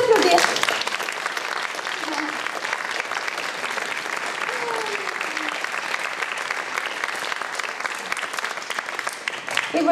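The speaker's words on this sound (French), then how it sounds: "On peut l'applaudir." A live audience claps warmly and continuously for a 90-year-old mother at an evening performance, a dense, even wash of applause that carries on for about ten seconds.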